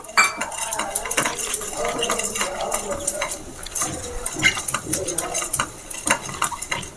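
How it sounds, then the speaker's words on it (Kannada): Cumin seeds and black pepper roast in a pan on low heat for jeera pepper rasam, a spoon scraping and clinking busily while faint crackles and sizzles pop underneath. "ರೋಸ್ಟ್ ಮಾಡ್ಕೊಳ್ಳಿ ಶಬ್ದ ಕೇಳಿಸ್ತಿರ್ಬೇಕಲ್ಲ ನಿಮಗೆ ಚಿಟ್ಪಟಿ ಅಂತ"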